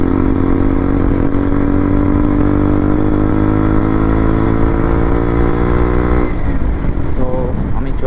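A Bajaj Apache motorcycle engine drones loudly and steadily as it rides on a road trip from Haldia to Kolkata, its pitch slowly rising before dropping off into rougher rumbling near the end.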